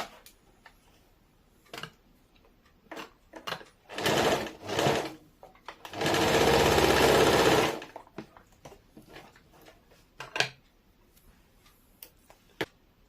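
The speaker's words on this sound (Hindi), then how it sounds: "इसी तरह से हम लोग इस साइड का भी वैसे ही सिल लेंगे" Sewing machine stitching the side seam of a plazo: short bursts of rapid mechanical chatter, then one longer steady run of stitching, with scattered clicks and handling noises between, close and without talk.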